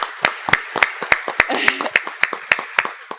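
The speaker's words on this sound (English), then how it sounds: "can we just give her a round of applause?" Clapping at a school district honors night: sharp, evenly spaced claps ring out close by in a steady rhythm, with softer scattered claps and a brief murmur of voices beneath them.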